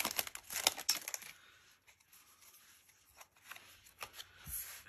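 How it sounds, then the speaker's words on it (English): A Pokémon Shining Fates booster pack is torn open with close, crisp crinkling and ripping of foil wrapper in short bursts, then quieter handling rustles. "struggle with opening the pack itself"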